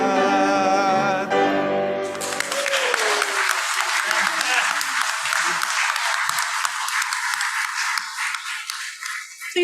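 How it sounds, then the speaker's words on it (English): Audience applause in a church service after a musical performance, rising from the end of a sung note into sustained, dense clapping that fills the room at steady loudness throughout. "Please give another round of applause to Ron."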